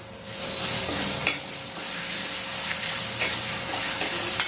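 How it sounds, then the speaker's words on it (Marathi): Curry leaves and urad dal frying in hot oil with mustard seeds, a continuous close sizzle with a few soft clinks of stirring scattered through, no voices. "कढीपत्ता छान खमंग असं परतून घेतलेलं आहे"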